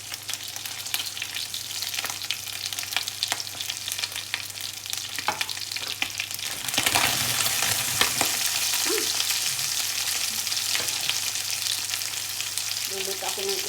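Onion, ginger and garlic sizzle steadily in a hot pan, the frying hiss swelling louder partway through as the aromatics hit the oil, with a few scraping stirs and small clinks, no talking.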